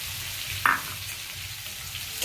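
Onion and chilli added to potatoes frying in a pan give a continuous soft sizzle, with one sharp clink of a utensil partway through and no voices.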